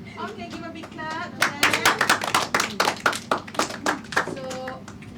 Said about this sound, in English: Okay, give a big clap.